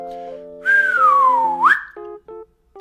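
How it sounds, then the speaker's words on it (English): A group whistles a long sliding tone that glides downward and then sweeps sharply up, heard over sustained background musical tones during a preschool music class. "we're going to try to whistle and get smaller"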